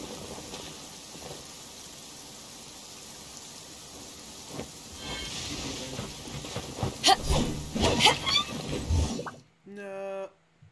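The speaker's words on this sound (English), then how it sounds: "Rain is a precious source of drinking water." Steady rainfall patters through the whole stretch in the Genshin Impact video game, rising with sharper drops and splashes near the end before cutting off into a short tonal game sound.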